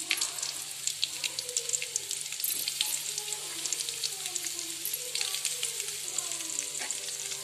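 Onions sizzling and frying in a pan, with a steady hiss and occasional stirring scrapes throughout, fairly close and moderately loud, with no talk.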